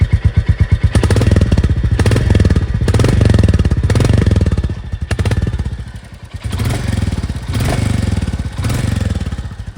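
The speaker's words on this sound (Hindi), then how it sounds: "एग्जॉस्ट का साउंड आपको सुना देता हूं कैसा रहने वाला है।" Royal Enfield Bullet 350 Battalion Black motorcycle exhaust thumping loudly at close range, a steady single-cylinder beat with repeated blips of throttle swelling and easing, no voices.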